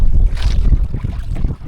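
Strong wind buffets a small boat at sea near an island, roaring steadily and loud against the microphone with low rumbling gusts and water noise throughout, no talking.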